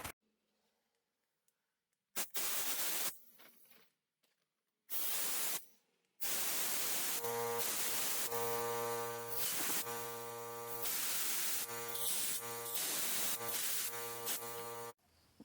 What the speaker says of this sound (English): I'm going to spray out the hole and blast it with a little air